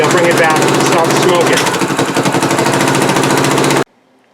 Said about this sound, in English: let it keep idling and let it burn out properly.